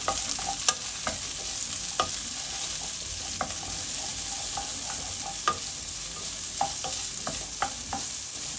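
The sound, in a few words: vegetables stir-frying in oil on high heat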